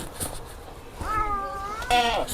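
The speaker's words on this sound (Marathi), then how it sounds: "मांजर आहे आमच्या वहिनींच्या इथे" A cat at a village home gives two drawn-out meows close by, the second louder and higher, against faint background noise.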